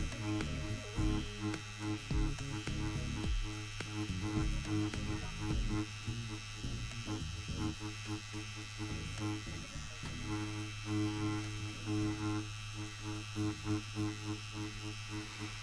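A tattoo machine buzzes continuously with a low electric hum while shading tones at shallow depth, its drone pulsing slightly in irregular stretches, close and steady without any voices.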